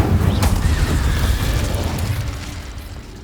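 Spell blasts in Hogwarts Legacy, a heavy booming burst with a rumbling low body that rolls out and slowly fades, loud and close, no talk over it.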